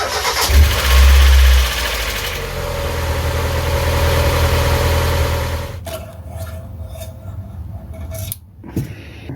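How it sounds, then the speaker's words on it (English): A Mazda MX-5 engine cranks and catches with a loud burst, then settles into a steady idle after an oil change, with a couple of brief revs and mechanical clicks near the end. "start the engine, get the oil fully circulated"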